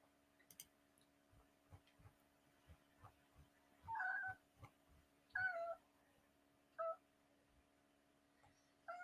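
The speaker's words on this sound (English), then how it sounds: "This is my cat. This is the perfect little angel." A pet cat meows indoors, giving about three or four short, fairly faint mews spaced a second or two apart over a quiet background of light ticking and a low steady hum.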